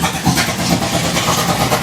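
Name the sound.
503CI big block Ford Gasser engine running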